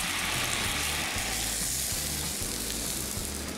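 Mussel water and broth hiss and sizzle loudly in a hot pan while linguine with white wine sauce and mussels is cooked, a dense, continuous close-up frying roar with a low rumbling undertone.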